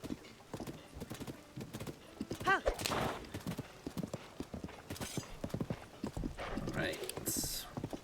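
Rhythmic clip-clop of horse hooves trotting in The Legend of Zelda: Tears of the Kingdom, with a brief whinny and other game sounds layered over it, under a talking voice.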